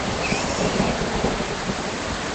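A thunderstorm in the farming game Farmer's Life brings heavy rain hissing steadily along with a low rumble of thunder. The sound forms a continuous, dense and even wash with no voices.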